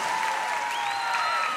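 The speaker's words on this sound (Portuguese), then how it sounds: "Uma salva de palmas para o Padre João Carlos" Audience applause at a Catholic music event led by a priest, a steady dense wash of clapping throughout with a faint sustained tone running beneath it.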